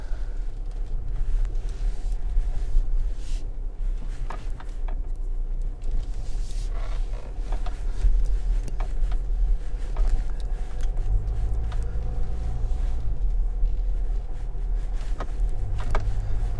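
A SsangYong Korando SUV drives off-road through mud, its engine a steady low rumble inside the cabin with scattered knocks and creaks from the rough ground and no talking.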